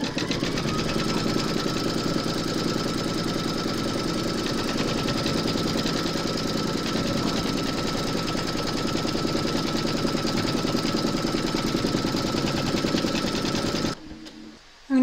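An embroidery machine stitches a securing round on a large Mrs Claus appliqué, a steady, close mechanical whir with a fast needle rhythm that runs unbroken for about fourteen seconds before stopping abruptly.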